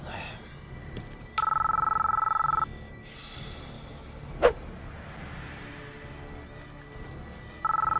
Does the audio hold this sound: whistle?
no